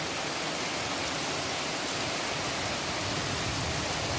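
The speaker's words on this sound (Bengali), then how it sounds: "এই যে ঝমঝম করে বৃষ্টি হচ্ছে" Heavy rain pours down in a sudden downpour, a dense, loud, unbroken rushing hiss that fills the whole stretch.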